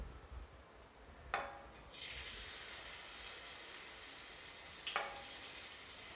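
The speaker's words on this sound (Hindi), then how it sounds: "लहसुन को मैं 2 सेकेंड तक हल्का फ्राई होने दूँगी" Garlic drops into hot oil in a kadai on a gas flame for street-style veg noodles, setting off a sharp hiss that settles into a steady, close sizzle, with a couple of spatula clinks.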